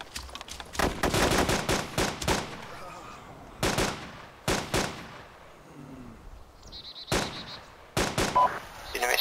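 Gunfire in the military video game ARMA 2 during infantry training, sharp shots in irregular bursts and single cracks, fairly close and loud, with quiet gaps between.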